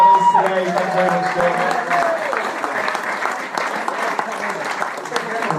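Sustained audience applause for Ronnie Stone at a live event with panels and music, dense clapping filling the whole stretch at steady loudness, with a faint voice and a brief tone near the start.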